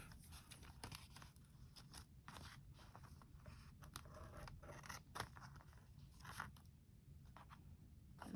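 Scissors trimming away excess sticky glue on a junk journal frame, a series of quiet snips and small crunching cuts close by, with no voices.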